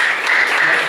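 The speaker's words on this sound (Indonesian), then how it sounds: "Aplaus buat pembahas" Brief burst of applause from a seated class audience at a sociology lecture session, a dense, loud patter of clapping that fills the whole moment without any talk over it.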